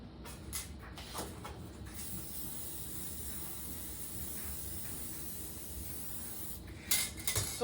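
Aerosol spray paint hisses from a can during stenciling, a steady broadband spray running through most of the clip with a few short bursts at the start and end, moderately close.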